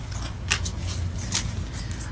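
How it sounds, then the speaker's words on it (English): Tarot cards shuffled by hand in a close, quiet series of brisk snapping riffles and soft papery rubs, with two sharper flicks standing out. "we're gonna go ahead and shuffle that again just to be sure"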